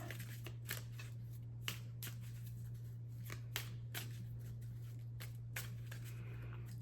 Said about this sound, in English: Again, just shuffle it in.